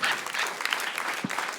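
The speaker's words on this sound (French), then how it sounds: "Je pense que ça mérite un applaudissement" A short burst of applause and cheering from a small group in a podcast studio, loud and dense for the full moment with no pause.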